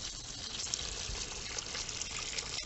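Water poured from a scoop splashes onto a tomato plant in a garden, a soft continuous trickling and splatter heard faintly and close for a few seconds.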